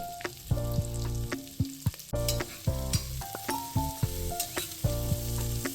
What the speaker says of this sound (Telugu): నెక్స్ట్ కుక్కర్లో ఆయిల్ వేసి ఆనియన్స్ గోల్డెన్ బ్రౌన్ కలర్ వచ్చే వరకు వేయించుకోవాలి